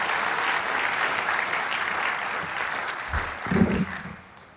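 An audience at a 2022 engineering school graduation ceremony claps loudly in a dense, sustained round, with a few low thumps near the end before the applause tapers off.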